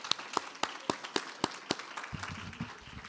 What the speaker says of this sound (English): I love to start off an event with a round of applause for no real reason